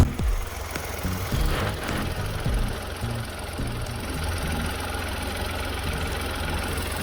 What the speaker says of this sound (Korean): 원래 모닝 엔진 이 정도 떨리는 게 기본입니다.